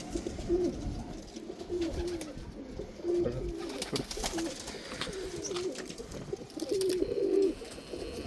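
Soft, low coos from an old pigeon repeat every second or so at a steady pace, set against a faint outdoor background.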